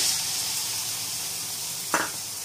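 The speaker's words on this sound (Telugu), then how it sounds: "ఆయిల్ వేసిన వెంటనే చికెన్ వేసేయాలి." Chicken going into hot oil in a pan for chicken fried rice, a steady loud broadband sizzle throughout with one brief scrape or clink near the end.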